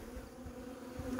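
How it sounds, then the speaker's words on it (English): Honey bees buzz at a hive feeder in a home apiary, a steady low drone of many insects close by, faint and unbroken. "So we got the bees. They're already found it."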